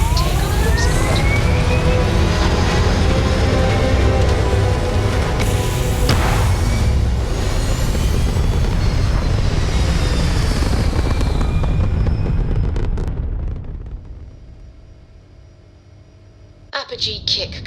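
A spaceship taking off in the Starfield video game: a loud sustained roar with rising tonal whine for several seconds, gradually fading away to quiet, with a brief clatter at the very end.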